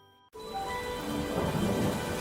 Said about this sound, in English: Peppa and George ran outside to play as the rain started.